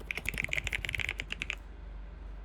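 Rapid keystrokes clatter on a computer keyboard in a quick, uneven burst for about a second and a half, then stop, leaving only faint room hiss.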